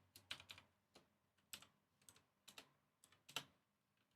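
Typing on a computer keyboard with an English layout, with quiet, close keystrokes landing in short irregular clusters and scattered single taps, and no speech.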